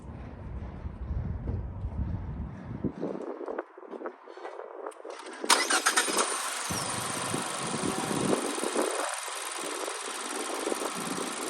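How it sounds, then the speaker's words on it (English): A Mazda car fitted with a lithium battery cranks briefly and fires up at once, then settles into a steady idle that carries on loudly and close by, with no talk. "I'll go ahead and turn my car over so you can just see how there's no like delay"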